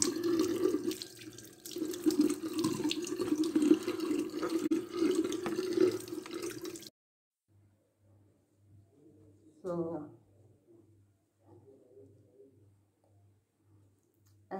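Water runs from a bathroom tap as a face is rinsed, a steady close rushing that fills the first half before stopping, followed by quiet with small splashes and faint sounds.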